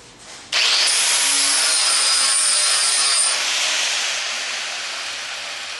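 An angle grinder grinds down a metal weld, a loud continuous high-pitched whine with abrasive hiss that starts abruptly and runs steadily, tapering slightly toward the end, up close with no talk.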